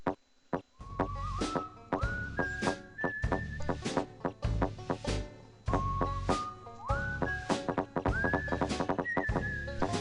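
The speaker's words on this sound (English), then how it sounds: "And here's that whistling song" A jaunty whistled tune from the claymation adventure game The Neverhood plays alone, with bright rising whistle phrases over plucked, thumping bass notes in a bouncy, repeating rhythm.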